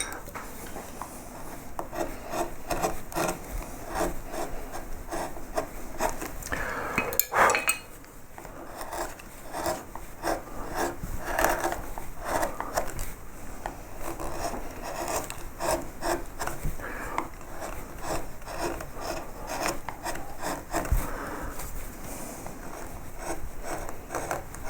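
Hand carving tool trimming oak wood while modelling a leaf, a faint, close scraping and rasping in quick repeated strokes that runs steadily throughout.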